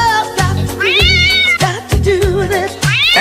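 A cat sound effect on a radio show: several loud, close meows in quick succession, some long and rising, with no talking.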